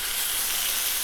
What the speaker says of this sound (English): I'm also gonna put some beets down on the grill as if I'm frying pastrami